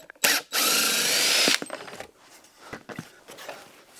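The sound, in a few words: screwdriver removing long screws from pocket door track covers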